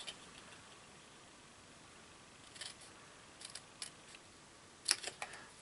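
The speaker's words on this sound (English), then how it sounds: "taking my scissors and I'm cutting up about 1/2 inch in the centre" Scissors snipping a paper treat pouch into a banner shape: a few brief, faint cuts and clicks scattered over a quiet background, clustered toward the end.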